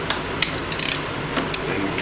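Ratchet with a 10 mm socket backing out a fan shroud bolt on a 2003 Chevy Suburban Z71, soft quick clicking of the pawl in short bursts, close and fairly quiet, no talk.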